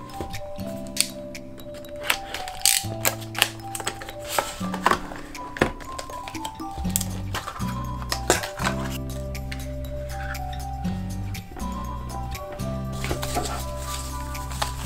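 Rustling, crinkly handling and soft taps as a Logitech Pebble M350 mouse package is opened, with scattered clicks and pops. Steady low tonal music plays underneath throughout.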